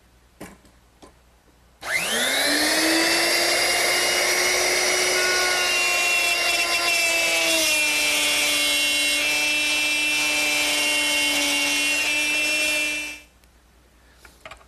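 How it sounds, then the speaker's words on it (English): A router fitted with a straight cutter plows a groove into wood for a candle stand, a steady loud high-pitched whine that starts abruptly, holds for about eleven seconds with a slight pitch drop mid-cut, then stops sharply. "Now, plow a groove in and stop just a little bit short of this lip."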